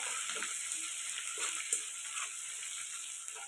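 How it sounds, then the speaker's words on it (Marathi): Tempering of cumin, garlic, ginger paste, coriander and curry leaves frying in a pan over a wood-fired stove, a soft continuous sizzle with light stirring scrapes and one small clink, fairly quiet throughout. "फोडणी छान परतून द्यायची"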